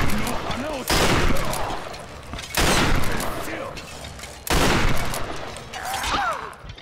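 Three heavy combat shotgun blasts boom out in Tomb Raider, each a sharp broadband burst with a long rumbling tail, spaced about 1.7 seconds apart. A quieter fourth blast follows, and faint voices sit beneath the shots.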